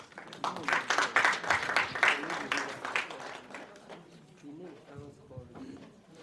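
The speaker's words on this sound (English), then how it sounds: "Please can we celebrate him again with another round of applause?" Audience applause at a high-level gender equality and women's empowerment event in Nigeria, a dense wash of clapping that swells loud early, then thins and fades, with a speaking voice over it.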